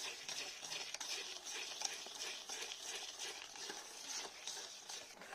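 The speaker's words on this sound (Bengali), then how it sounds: "দিয়ে আবারও ভালো করে ফেটাতে হবে সময় ধরে" Cake batter for a Christmas cake, with white oil added, is whisked in a large bowl, giving a steady, close, continuous scraping and swishing in a fast repetitive rhythm with no pauses.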